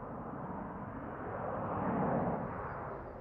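A steady, loud Bombardier Global business jet engine roar rumbles throughout at Toronto Pearson airport, swelling slightly toward the middle, with no voices.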